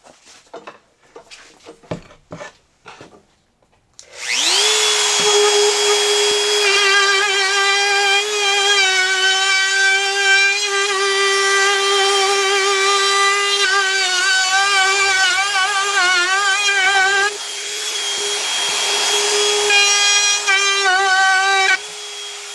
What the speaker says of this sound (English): I've put a 1/4 inch chamfer bit into the router